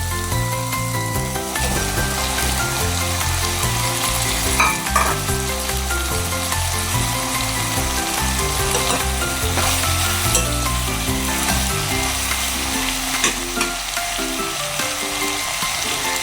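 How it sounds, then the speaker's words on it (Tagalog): Sliced bitter melon (ampalaya) fries in a pan, giving a loud, continuous, crackling sizzle with occasional stirring scrapes and no talk. "Ngayon naman, ilalagay ko na itong ampalaya na hiniwa-hiwa ko."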